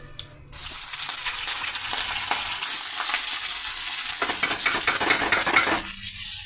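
Mustard tempering seeds dropped into hot oil in a pan burst into a loud, close, continuous sizzle with crackling pops throughout, starting abruptly after a brief quiet moment and staying steady to the end.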